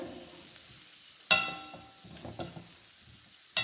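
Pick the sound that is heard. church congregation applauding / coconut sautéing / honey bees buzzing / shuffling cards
coconut sautéing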